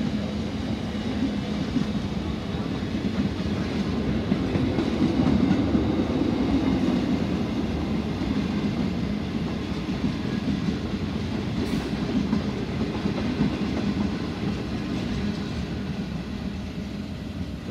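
Sydney Trains K set passenger train passing at Chester Hill, a steady close rumble of wheels with faint clickety-clack over rail joints, continuous and loud for the whole stretch with no talking.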